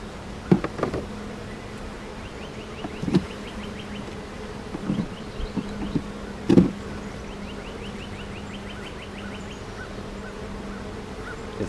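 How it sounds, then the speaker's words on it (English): Honeybees buzzing around an opened hive during an inspection, a steady droning hum with a few louder knocks and clicks of frames and equipment scattered through. "this box really has about 3 frames of bees"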